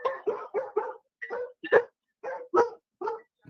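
Dogs at home bark at someone arriving, about ten sharp, loud barks in quick bursts with short pauses between them.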